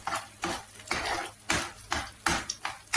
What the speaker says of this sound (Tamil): முட்டையை கொஞ்சம் உதிரியாக ஃப்ரை பண்ணி எடுத்துக்குவோம் நம்ம